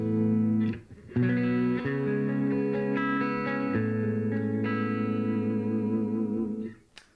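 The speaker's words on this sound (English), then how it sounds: "What we have is obviously the clean sound." Clean electric guitar chords ring out through a 1993 Crate practice amp, sustained and slightly chorused, with a brief pause near the start and a fade at the end.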